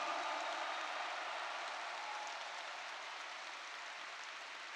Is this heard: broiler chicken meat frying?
no